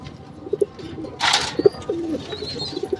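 Lahore and Bombay silver fancy pigeons, a pair sitting on eggs with chicks, give soft, low coos at intervals over a quiet background, with a brief burst of rustling or wing flapping partway through.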